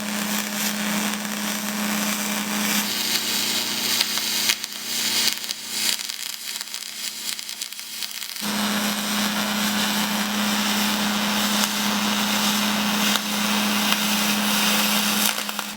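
A Millermatic 211 spool gun welds a quarter-inch aluminum cap onto the end of a bumper, giving a steady loud hissing, crackling buzz that pauses briefly midway and then resumes, close and alone.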